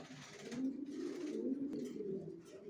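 Racer pigeon squabs give low, continuous throaty cooing and puffed-up grumbling close by, with a soft click partway through.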